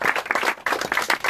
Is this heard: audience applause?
yes